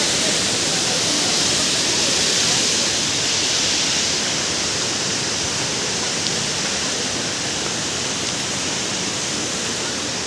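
Water pours steadily at the Sanghagra waterfall, a dense, even rush that stays loud and unbroken throughout with no voices.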